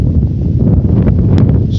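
Strong wind in freezing cold on the Chatyr-Dag mountain ridge roars steadily and loudly across the microphone in a dense, unbroken rumble.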